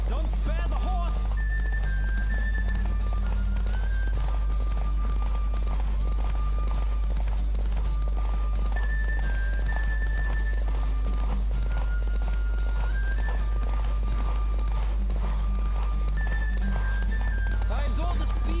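Rapid hoofbeats of a galloping horse with a whinny in the video game The Witcher 3, under steady background noise and occasional talk.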